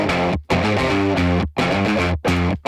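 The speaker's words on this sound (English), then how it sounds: "You get this big woolly fat output distortion, and you can blend those to taste" Electric guitar played through a Neural DSP Morgan amp simulator with the master pushed, a thick, woolly, fat distortion ringing out in loud sustained chords separated by brief stops.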